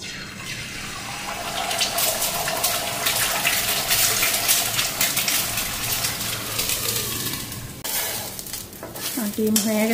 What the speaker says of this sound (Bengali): ডিমের ঝোল কড়াই দিকে গরম হয়ে গেছে